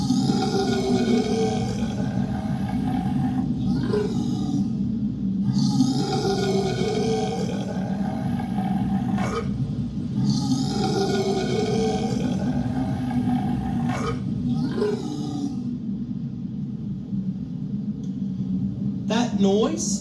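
Abominable Snowman roar in a puppet show, voiced by a performer: several long, deep, growling roars repeating at a steady pace, loud and close, with brief gaps between them.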